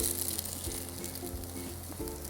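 Veg kebab frying in a little oil in a pan, a steady close sizzle with a brief rise as it is flipped to cook the other side.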